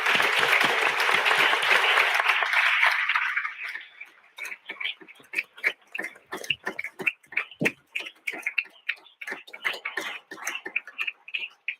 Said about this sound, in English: please join me in giving a very big round of applause to this team